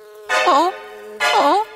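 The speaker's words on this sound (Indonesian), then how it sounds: "Lebah sayang. Sekarang aku akan mengambil sarang dengan madunya." Cartoon bees buzz around a honey hive in two separate bursts, each a bright, wavering, nasal drone with bending pitch, with a brief quiet gap between them.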